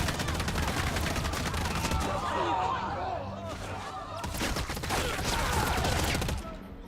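Gunfire rings out in an execution scene from a post-apocalyptic TV drama episode, a rattling fusillade of rapid shots and bursts that runs for several seconds beneath people talking.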